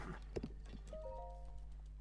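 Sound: horse galloping in slow motion, Zelda: Breath of the Wild video game

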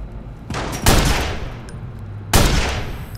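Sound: sniper gunfire in the Watch Dogs video game

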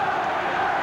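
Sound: boxing crowd cheering

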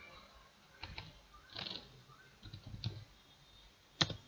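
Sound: typing a terminal command on a computer keyboard

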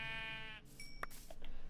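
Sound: sheep bleating in Minecraft video game

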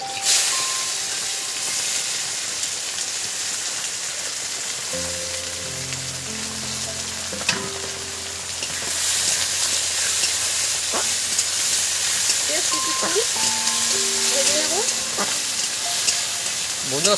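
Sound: chopped onions, green chilies and bay leaf frying in oil

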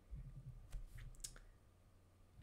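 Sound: keyboard typing test on a Ryzo keyboard

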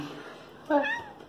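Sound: cat meowing

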